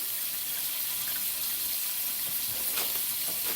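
Water runs steadily from a kitchen tap while a cloth is readied for wiping the surface, an even rushing hiss heard close and alone.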